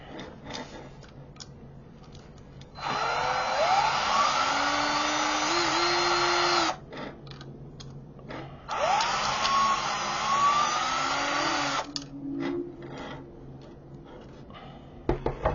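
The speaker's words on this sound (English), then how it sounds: "Okay, now we're going to remove these 3 screws." Power screwdriver backing screws out of an F-15 flight stick grip, two sustained loud whirring runs of several seconds each with rising pitch sweeps, separated by quieter handling ticks and clicks.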